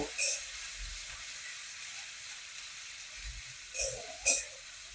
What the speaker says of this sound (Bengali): এবার আমি পেঁয়াজ কুচুনোটা এর মধ্যে দিয়ে দিলাম পেঁয়াজটাকে লাল করে ভেজে নেব